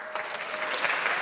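Live radio broadcast audience breaks into applause, a dense, steady clatter of many hands clapping at once that swells slightly and holds for over a second with no talking.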